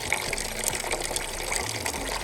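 Steady rushing and splashing of water pouring from a tap for a pigeon to drink, continuous and fairly close, with faint bird sounds in the background.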